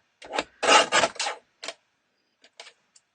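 Card stock is cut into 3/4 inch by 5 inch strips for a handmade card, a cluster of short, close scraping slices followed by a few fainter ticks and rustles.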